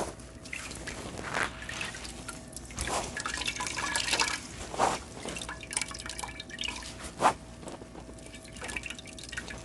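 Water dripping and trickling steadily through a sieve while making pap, with scattered louder splashes and drips over a continuous wet, bubbly background.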